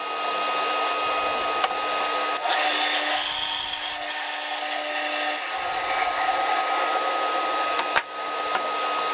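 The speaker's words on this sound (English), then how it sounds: "I don't usually cut on a bandsaw that quickly." Bandsaw cutting through a guitar body, sped up, giving a steady loud whining drone with shifting tone as the blade works the wood, running continuously without talk.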